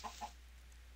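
A chicken clucks twice in quick succession in a modded survival video game, short and faint, then quiet follows.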